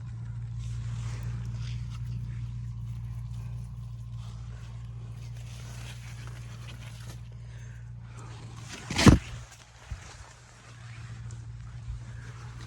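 Tractor fitted with a Bednar Row-Master 6400 header harvesting sunflowers: a steady low engine drone runs throughout, with a brief loud rustling burst near the end.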